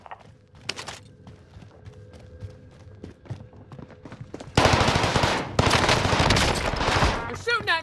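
Rapid automatic gunfire erupts in Call of Duty Vanguard/Warzone, loud and close, after a quieter stretch of scattered clicks and light footsteps; the bursts run continuously to the end, with a short break partway through.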